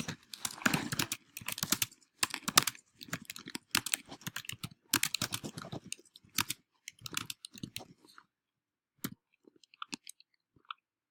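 Rapid bursts of keystrokes on a computer keyboard, close and crisp, in uneven clusters of clicks with short pauses, thinning to a few scattered taps near the end.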